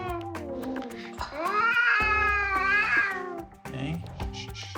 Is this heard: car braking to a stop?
no